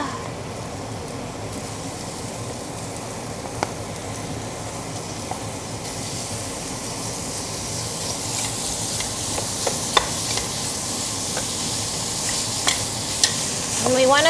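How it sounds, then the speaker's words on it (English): Pork sizzles steadily in a hot pan while being stirred for bak zhang, with a continuous frying hiss broken by occasional clinks and scrapes of a utensil against the pan. "we want to fry the pork till it's a bit golden and a bit charred"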